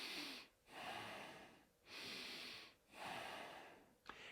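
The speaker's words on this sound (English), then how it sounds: "So most people, if you really watch, are breathing kind of like this." Demonstration of shallow breathing during a yoga class: close, audible inhales and exhales in a steady rhythm, three long breath cycles separated by brief pauses, with no talking.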